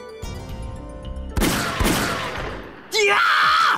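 Gunfire rings out in the video game Fairy Fencer F: Refrain Chord, a burst of loud shots that trails into a swelling rumble, then a sudden sharp burst of game sound effects near the end.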